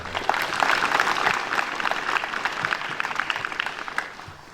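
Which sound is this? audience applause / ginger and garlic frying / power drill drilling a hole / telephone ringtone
audience applause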